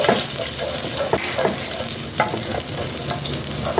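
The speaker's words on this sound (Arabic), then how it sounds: "نحط التوم بعد ما الزيت يسخن، وهنحط بعد كده البهارات مع التوم والزيت" Garlic and spices fry in hot oil in a home kitchen pan, a loud close sizzle with repeated sharp scrapes and knocks as the spoon stirs, and no talk.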